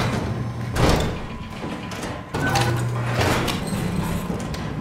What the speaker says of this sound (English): And I finally do all that just in time for this door to open.